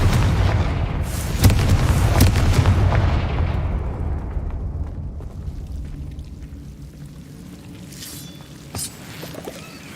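A fiery Confringo blast spell in a Harry Potter video game erupts as a heavy booming explosion that rumbles and decays over several seconds, followed by a softer crackling tail and a small late thump.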